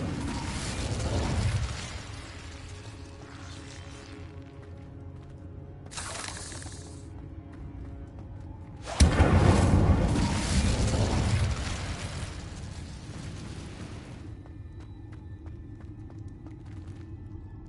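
An Incendio fire spell in a Hogwarts video game erupts in a loud whooshing burst of flame, preceded by a shorter flare, then crackles and fades into quieter ambient game sounds with occasional chimes.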